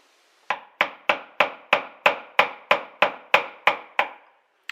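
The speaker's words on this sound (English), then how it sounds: "all I'm doing is concentrating on chiseling" Steady mallet blows on a chisel cutting dovetail joints in clamped wood for fine furniture, about a dozen crisp, evenly spaced knocks close by, each with a short ringing decay, with no voices.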